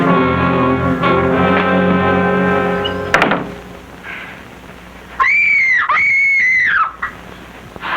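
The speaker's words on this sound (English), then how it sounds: "You screamed and made lots of noise." A woman screams to scare off an attacker, two loud high wavering shrieks in a row near the end, after a sharp thump and a stretch of music, heard close and clear.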